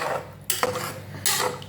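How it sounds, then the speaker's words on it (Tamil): A utensil stirs black chickpea gravy with added water in a cooking pot, giving a few short scraping clinks against the metal, with nobody talking. "தண்ணி ஆட் பண்ணி நல்லா கிளறி விடுங்க."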